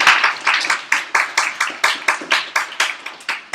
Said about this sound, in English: Can we give Emily a round of applause?